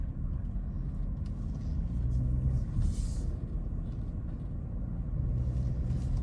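A Porsche Cayenne with a PSM failure drives along while its ABS tries to engage, giving a low, steady rumble of road and drivetrain noise inside the cabin with a brief hissing swell partway through.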